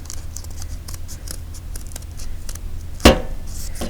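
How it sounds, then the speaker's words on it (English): Scissors snip once through paper being cut for a paper rose window, a single crisp, close cut standing out against a quiet room background. "So if I cut in, again, this might be hard, you might have to push, and then cut in again."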